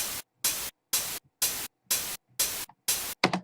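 Seven short bursts of white noise in a steady, even pattern, layered with a hi-hat for a studio drum track; each hiss cuts off cleanly, and the last burst is broken up and uneven.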